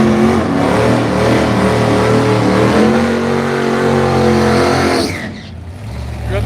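Radial drag racing cars on an Australian drag strip, a loud, steady engine roar with rising revving tones that cuts off sharply near the end, heard close and alone.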